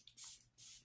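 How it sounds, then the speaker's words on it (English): Two short hissing bursts of e.l.f. Professional Super Setter makeup setting spray, close and fairly loud, separated by a brief pause. "All right, let's spray."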